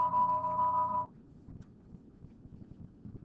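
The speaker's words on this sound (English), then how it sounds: "my phone keeps ringing" A mobile phone rings with a steady electronic tone for about a second, then cuts off and leaves faint room noise.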